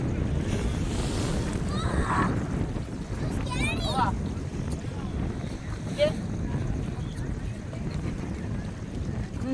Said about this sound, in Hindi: पानी की लहरें देखिए आप।